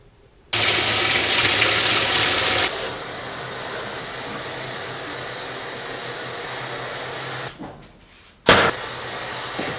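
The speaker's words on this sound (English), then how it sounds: "Okay, my laundry is in the washer" A home washing machine fills with water for a laundry load: a steady broadband rush of inflowing water, loud at first then settling to a lower hiss with a faint hum, briefly cut off near the end before resuming.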